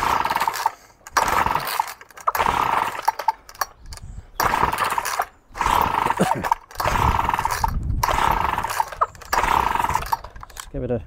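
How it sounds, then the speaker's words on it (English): A petrol strimmer with an empty carburettor is pull-started on choke: loud, harsh bursts about a second long, each likely a cord pull, repeated with short pauses between them. "Let's go for some choke to start with. And it's going to take some pulling because the carb's empty."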